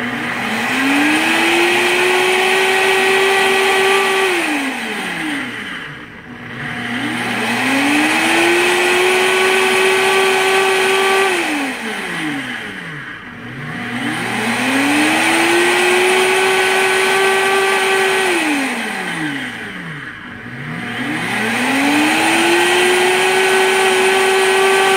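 A Dash digital blender runs its rinse cycle, its motor whirring up in pitch, holding steady, then winding down and pausing, repeating in three or four loud cycles with no talk.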